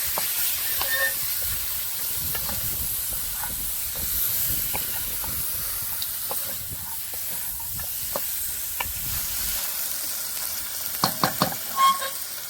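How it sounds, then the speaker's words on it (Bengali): Desi chicken pieces fry and sizzle in a pan with spices, a steady close hiss with soft scraping stirs throughout and a few sharper clicks near the end. "এখন আমি মশলার মাংস ভালো করে নেড়ে চেড়ে মিশিয়ে নিচ্ছি।"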